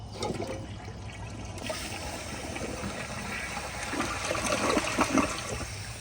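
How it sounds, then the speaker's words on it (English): A 2004 Kohler Highline Ingenium toilet flushes close by, a steady rushing gush of water that swells louder toward the end before settling into refill trickling. "But here's another flush."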